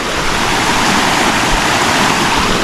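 Water rushes in a loud, steady wash from a nearby river running fuller than usual in open countryside, with a continuous broadband roar and no voices.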